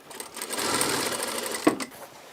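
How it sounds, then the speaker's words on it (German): Sewing machine stitching two dirndl skirt pieces together, a steady close whirring run that stops briefly with a soft clunk, then resumes quieter. "näht sie die beiden Rockteile zusammen und diese dann ans Oberteil"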